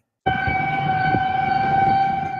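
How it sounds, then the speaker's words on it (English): Tornado warning sirens in Rock Valley, Iowa sound overnight in a steady, sustained wail that holds at loud level without pause, with a low rumble of background noise beneath. "Frightening moments as tornado sirens blared overnight in Rock Valley, Iowa"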